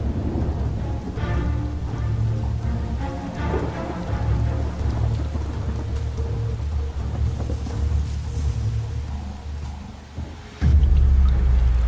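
Thunderstorm with rain in the Luangwa Valley, steady hissing rainfall with low rolling thunder throughout and a loud deep rumble swelling near the end.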